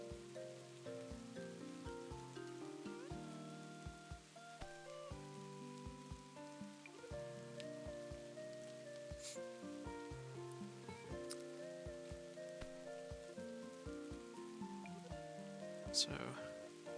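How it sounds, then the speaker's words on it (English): Rain falls in the Holocure video game, a steady patter of drops with scattered sharper hits, playing under tonal background music for the whole stretch. "if it keeps raining, that'll speed things up a bit."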